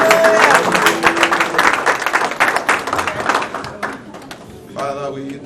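A church congregation claps together in a dense, loud burst of applause for several seconds, with voices and cheering mixed in before it tapers off and a voice carries on.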